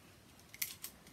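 A Japanese Miranda film camera, made between 1955 and 1978, fires its shutter: a couple of quick, light mechanical clicks, close and faint against a quiet background.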